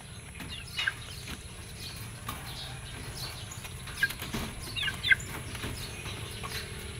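Feather-picking gamefowl chickens about three months old on a farm after feeding, giving faint scattered clucks over a steady low background hum.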